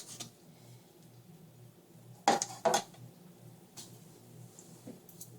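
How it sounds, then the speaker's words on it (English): A knife slices steaks on a plate, mostly quiet apart from two sharp close clinks of metal on the dish near the middle and a few faint taps; no speech. "Slice up our steaks."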